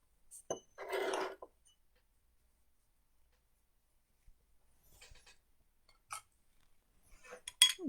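A watercolor paintbrush swirls and taps against a glass of rinse water, giving a short burst of clinking and swishing, then quiet, followed by a few faint, sparse clinks near the end.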